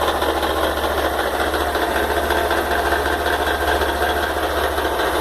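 The engine of a two-month-old Honda XRE 190 motorcycle runs at a steady idle with an abnormal rapid ticking and rattling clatter, continuous and close, with no talking.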